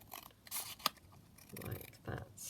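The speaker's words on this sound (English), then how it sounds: "I will just trim that down" Scissors trim paper for specimen slides in a DIY embellishment craft, with a few quick, close snips and a soft rustle of paper, while a person speaks quietly around the cuts.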